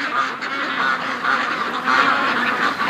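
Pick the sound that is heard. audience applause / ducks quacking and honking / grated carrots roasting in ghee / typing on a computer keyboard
ducks quacking and honking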